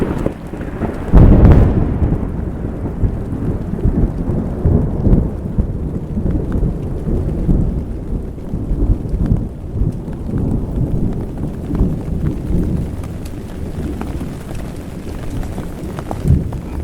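Rain pours steadily during a rainstorm while loud thunder cracks sharply near the start, then rolls and rumbles deeply through the rest of the storm.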